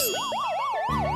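A cartoon police car siren yelps in a fast, repeating up-and-down warble, loud and close, over light background music, with no speech.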